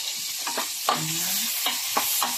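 Chopped onions hit hot oil in a pan and sizzle steadily, with a few scraping stirs and clinks of a utensil throughout, close and fairly quiet.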